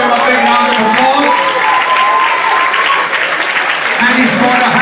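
Steady, loud applause from an audience at a Singapore international football event honouring the footballer of the tournament, sustained clapping with crowd noise throughout.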